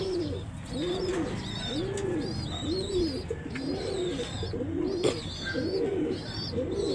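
Racing pigeons coo repeatedly in a steady rhythm at a derby in Santiago, Isabela, close and fairly loud, with faint higher chirps from other birds in the background.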